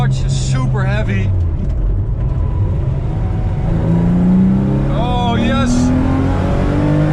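A 1986 Porsche 911 wide-body with a naturally aspirated engine while driving, its engine note droning and climbing in pitch through gear pulls, heard from inside the cabin with a man exclaiming over it.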